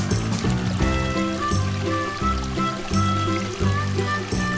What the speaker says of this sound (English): পানি প্রবাহিত হচ্ছে।